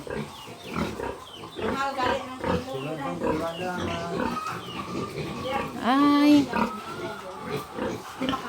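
Pigs on a small farm grunt and oink repeatedly, with one loud rising squeal near the end, heard close by under people chatting.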